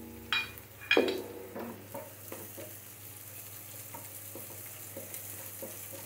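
Chopped garlic hitting hot oil for taro leaves cooked with hilsa fish gives a soft, steady sizzle, with a couple of sharp spoon-and-pan clinks early on and light stirring scrapes throughout.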